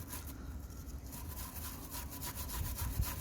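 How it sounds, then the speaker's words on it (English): A wire brush scrubs rust off the bolts on a Renault Kangoo during CV joint work, a close, steady rasping scrape with rapid back-and-forth strokes and no talk. "we're just gonna clean them with the wire brush"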